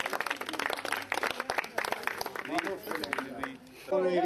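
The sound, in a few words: audience applauding the polo winners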